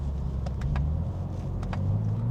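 BMW M2 G87 engine at around 3,000 to 4,000 RPM, a steady low rumble holding throughout with a few faint clicks on top, no speech.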